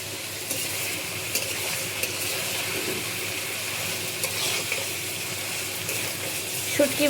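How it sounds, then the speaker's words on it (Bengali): Dried kachki fish fry in rice bran oil in a pan over a full gas flame, giving a steady soft sizzle with small stirring clicks and scrapes throughout, fairly quiet and close. "এখন এটা আমি কাচকি মাছটা একটু ভেজে নেব।"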